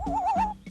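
A bird at a zoo imitates a loon with a single wavering, quavering whistle that trembles up and down before cutting off, followed by a brief softer note and faint background voices.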